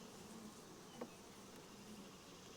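Honey bees at an opened hive give off a steady, faint buzzing hum throughout, with one brief soft knock near the middle.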